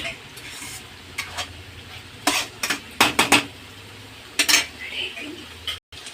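A lid comes off a pan of cabbage manchurian amid sharp metallic clinks and clatters, followed by scraping stirs over a low, steady sizzle.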